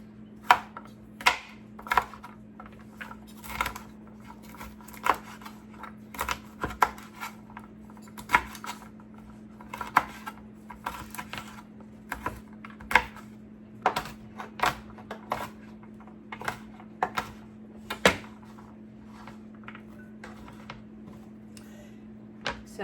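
A knife chops through shelled pistachios on a cutting board in quick, irregular taps and clicks, close and fairly quiet over a steady low background hum.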